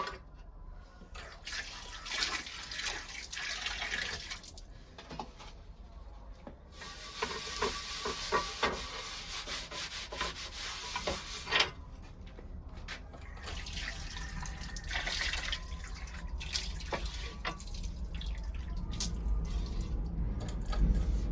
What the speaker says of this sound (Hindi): सबसे पहले तवे को धो लूं।